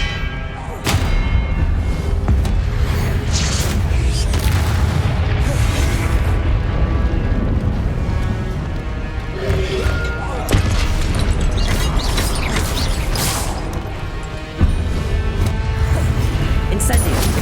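Spell blasts and explosions from Hogwarts Legacy boom and crash in a dense, continuous barrage of magical combat, loud throughout, with character voices calling out between the impacts.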